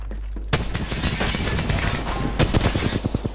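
Rapid automatic gunfire in Apex Legends, a dense, loud burst of shots running almost continuously, turning into distinct separate rounds near the end.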